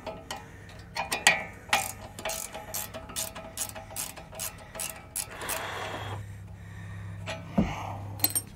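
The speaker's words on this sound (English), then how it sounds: "ratcheting box wrench." A ratcheting box wrench clicks steadily while loosening bolts on the rear brakes of a VW Jetta MK6, with close, sharp bursts of pawl clicks in an irregular rhythm over a low background hum.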